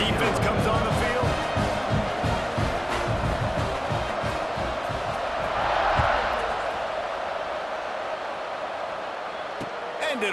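Stadium crowd noise from the College Football 26 video game forms a dense, steady roar that swells briefly midway, while commentators talk over it.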